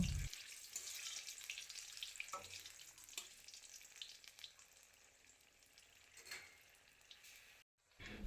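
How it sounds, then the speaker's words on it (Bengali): Bay leaves, whole garam masala, cumin and green chillies crackle and sizzle in hot oil in a kadai, a steady close frying hiss with a few sharper pops and a brief silence near the end. "এবার কড়াইয়ে তেল গরম করে দুটো তেজপাতা আর যা যা গরম মশলা লাগে সব দেব"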